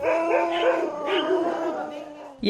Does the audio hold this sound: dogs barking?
yes